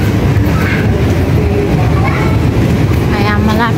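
Elevated MRT train rolling past in Pasig City, a steady loud rumble with rail clatter filling the whole stretch, while a voice talks faintly beneath the noise.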